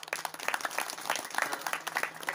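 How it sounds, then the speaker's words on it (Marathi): A group of men in a kirtan audience clap their hands together, a brief burst of dense, uneven applause at moderate distance, with no clear talk over it. "पुरुष मंडळी एकदा टाळी वाजवून दाखवा बरं मला. वाजवा टाळ्या वाजवा."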